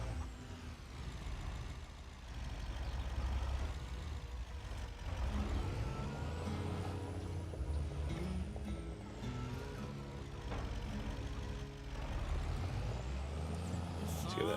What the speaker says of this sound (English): I'll use the truck to move it this time.